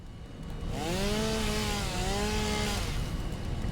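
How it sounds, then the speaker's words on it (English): A chainsaw cuts through a tree in the factory-building video game Satisfactory, a steady, loud buzzing drone with wavering whine tones that rise and fall over a few seconds, heard alone without talk. "I guess we're going to chainsaw this."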